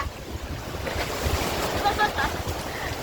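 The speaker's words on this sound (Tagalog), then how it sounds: "Ang lakas ng alon!" Rough ocean surf churns and crashes continuously at a rocky beach in Mauban, Quezon, mixed with heavy wind buffeting the microphone, loud and close throughout.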